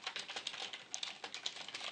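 Quick, light clicking of keys on a computer keyboard, a soft close run of irregular taps with no voices.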